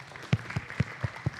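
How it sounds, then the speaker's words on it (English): Five evenly spaced, soft hand claps ring out at a steady beat, faint and fairly distant, as people are called up to present at a UNESCO showcase session. "Clap them up"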